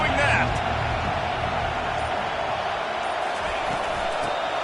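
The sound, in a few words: stadium crowd cheering at a Go Blue vs Quack Pack football game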